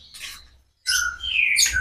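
Caged songbirds, a green magpie and a canary, kept in a garage: a short burst of chirping, a brief silence, then a louder run of bright trilling calls and whistles, close by.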